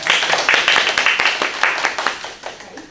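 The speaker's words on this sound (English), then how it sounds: "may I invite all of you to give a round of applause to welcome Dr." An audience at an academic seminar claps to welcome the speaker, a close, loud patter of hand claps from a modest group that tapers off over three seconds.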